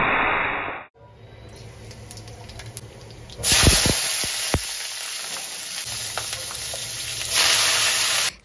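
Black cumin seeds and green chillies temper in hot oil, a steady close sizzle and hiss that swells louder partway through and carries on without talk.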